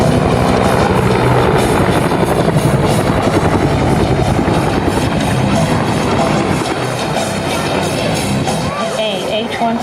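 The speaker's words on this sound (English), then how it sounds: "AH-1 Cobras performing here today are veterans aircraft with a vast history of combat action" AH-1 Cobra helicopters flying at an airshow, a loud, continuous close rotor thump that fills the scene from start to finish, with a faint crowd underneath.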